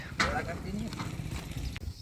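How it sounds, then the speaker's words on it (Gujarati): A mare's hooves clip-clop as she is unloaded from a vehicle onto a farm in Kutch, a few close, uneven hoof knocks under a person talking nearby. "આપણે ઘોડી ઉતારી લીધી છે શ્યામાને"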